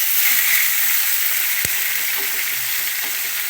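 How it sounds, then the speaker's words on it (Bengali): Giant prawns fry in a pan for a bottle gourd and prawn dish, giving a steady, bright sizzle throughout with a single sharp knock against the pan partway through. "এখানে আমি ভেজে নিচ্ছি চিংড়ি মাছ"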